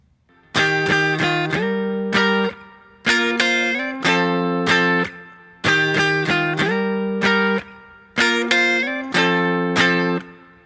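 Guitar playing the chord progression of a song, strummed in four repeating phrases of quick rhythmic chord hits with sliding changes, clear and close with no talking.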